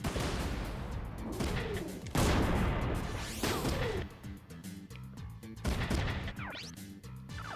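Sniper rifle fire in a video game, several loud sharp cracking shots in uneven succession over a busy game soundscape.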